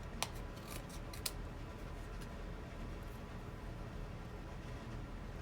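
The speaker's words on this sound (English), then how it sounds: "You can cut a little strip off of here." Scissors snip a strip of card for a handmade birthday card, a few sharp close cuts near the start and again around one second, then a quiet steady hiss with no voices.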